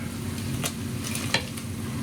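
Shrimp tumble into boiling marinade with a brief splash and a couple of sharp clatters, over a steady bubbling, sizzling hiss.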